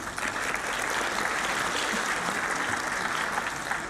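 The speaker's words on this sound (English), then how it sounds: "You must clap for your department." Audience at a physiology conference welcome address applauds the department, a steady, even wash of clapping from a hall full of people, moderately distant and sustained without speech.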